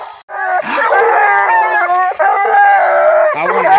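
A coon dog pup barks and howls during hound training, a loud, continuous run of wavering, drawn-out howls broken by brief yips, close to the listener.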